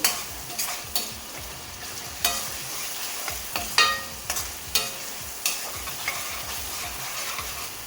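Fish curry gravy made with koonam fish, turmeric and plenty of oil being stirred in a pan, with spoon scrapes and knocks every second or so over a soft, steady sizzle.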